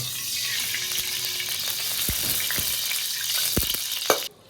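Hot oil sizzles in a wok while cooking Sichuan maoxuewang over greens: a steady, bright hiss with a few sharp utensil knocks near the end before it cuts off abruptly.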